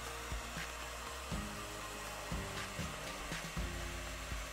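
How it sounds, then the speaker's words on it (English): Heat blower running steadily to warm the underside of a carbon-fibre vinyl skin on an Xbox One console, a continuous airy roar with faint low thumps as it is moved about, nothing else heard. "we're going to be heating the back side of the film to soften it to help with it going down around this curve"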